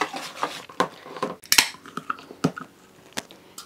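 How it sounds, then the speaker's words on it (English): Salt stirred into a dry batter mix in a bowl for beer-battered fish, giving irregular light clinks and scrapes of a utensil against the bowl, close and fairly quiet, with no talking. "I'm going to stir this before I add my beer to distribute evenly"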